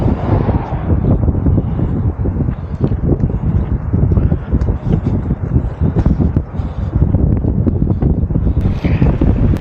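Strong, steady wind buffeting the microphone on an electric bike ride in open country, a loud continuous roar with gusty low rumbling throughout and no voices.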